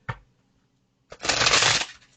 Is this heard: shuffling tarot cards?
yes